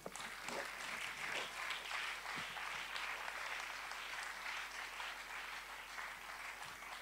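Applause from a church congregation, a steady wash of clapping that holds at an even level throughout, fairly distant and with no one speaking over it.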